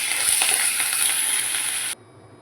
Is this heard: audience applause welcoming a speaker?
no